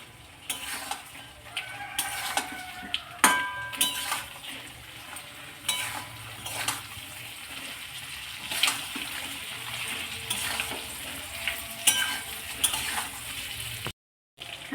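Giant freshwater prawns are stir-fried in spice paste for a Bengali prawn curry, with a steady sizzle and repeated scraping strokes of a spatula throughout and a brief drop-out near the end.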